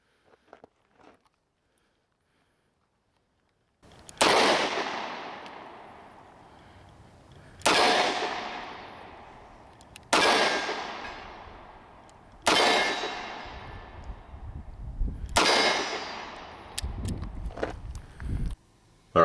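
A Ruger LCR .357 Magnum revolver fired at a range, four loud sharp reports spaced a few seconds apart, each ringing out with a long decaying echo, after a near-silent start.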